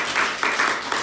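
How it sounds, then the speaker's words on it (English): Audience clapping after a panel discussion on mental health research at a university event, a brief burst of close, moderately loud applause with uneven swells. "big round of applause for a very interesting panel"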